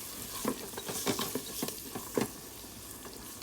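Onions are stirred into rice cooking in a pan with a little water, giving a soft sizzle broken by scraping strokes of a spoon, several uneven scrapes close by and no voices.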